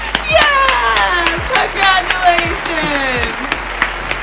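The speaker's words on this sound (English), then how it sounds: "Let's clap it up for Jeff." Group of people clapping and cheering for Jeff's first-generation college graduation, a dense burst of close, loud applause running the whole time with voices talking and whooping over it.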